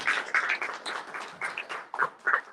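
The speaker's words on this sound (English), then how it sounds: "let's give them a round of applause for being around for 100 years" An audience at a live chamber music event claps unevenly. The sparse bursts come and go and no voices sit on top.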